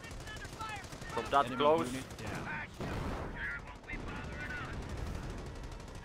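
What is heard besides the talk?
machine gun firing in Company of Heroes video game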